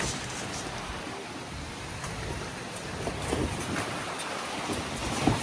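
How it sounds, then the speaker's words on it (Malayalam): Steady rain falling outdoors in Berlin, a soft continuous hiss with occasional louder drips toward the end, no talking. "നല്ല മഴയുണ്ട്"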